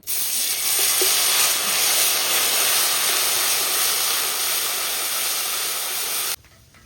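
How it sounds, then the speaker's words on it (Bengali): Tilapia fish curry broth boiling hard in a pot after frying fish and spice paste, a loud steady bubbling hiss that holds for about six seconds, then cuts off abruptly. "ঝোল ফুটে উঠছে মাছগুলো দিয়ে দেব"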